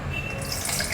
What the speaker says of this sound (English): Now we will drain out the water.